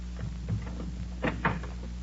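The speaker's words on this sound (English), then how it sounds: "open that door." A door opening in an old-time radio detective drama, a couple of brief knocking clunks and a latch-like rattle heard near and fairly soft over a steady low hum, with no talk during it.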